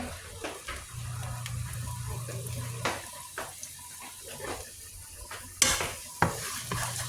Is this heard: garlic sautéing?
yes